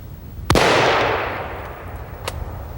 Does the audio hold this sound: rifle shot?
yes